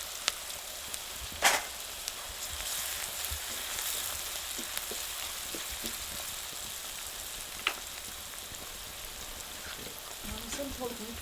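Chopped green chillies sizzle in hot oil while tempering chickpeas, giving a steady close crackle with occasional sharper pops and faint stirring.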